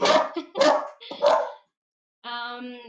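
Several quick barks from a dog nearby, then after a short gap a drawn-out tonal whine or howl, with no talking.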